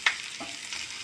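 Ginger garlic paste sautés in a pan, a soft sizzle with a brief scrape of stirring near the start, quiet and close.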